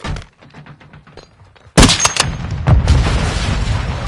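A grenade explosion in a video game, a sudden loud close boom after quieter scattered shots, followed by a sustained rumbling roar of continued gunfire and battle noise.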